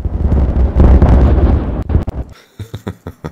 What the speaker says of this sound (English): let's make some stuff explode